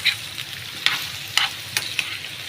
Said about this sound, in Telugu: కొంచెం ఎర్రగా బ్రౌన్ కలర్ వచ్చినంత వరకు ఇవి అయితే వేయించుకోవాలన్నమాట